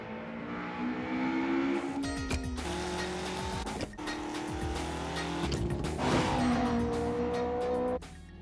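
A Toyota Eight Six turbo car engine accelerates and shifts, revving up in several rising sweeps with abrupt drops at gear changes and some tire squeal, fairly loud and continuous.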